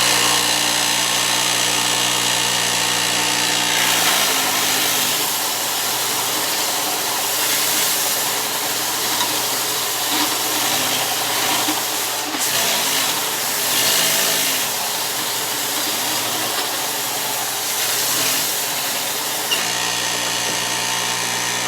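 A power belt sander grinds down a wooden arrow shaft held in an aluminum-lined jig with a 5/16 channel, a steady loud broadband whir running almost continuously, with a brief shift near the middle as the shaft rides the belt.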